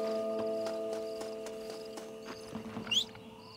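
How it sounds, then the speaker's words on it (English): Rhythmic clip-clop of a war horse's hooves approaching in Red Dead Redemption on Xbox One X trots steadily over a tonal hum, ending with a short whinny. "Let's call the war horse."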